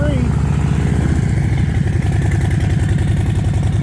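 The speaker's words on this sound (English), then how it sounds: "Bike's running, right?" A Harley-Davidson motorcycle engine running close by, a loud steady low rumbling putter at idle that holds throughout.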